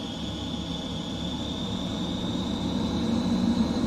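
F-15C jet engine in Microsoft Flight Simulator 2020 spooling up at RAF Lakenheath, a steady loud roar with a sustained high whine that builds slightly in volume, heard alone without voices.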